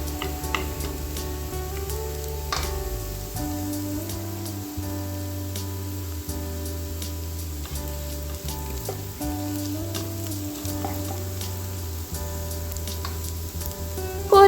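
Tomato curry frying and being stirred in a pan: continuous loud sizzling with repeated scraping strokes of a spoon against the pan in a slow rhythm, close up, with no talking.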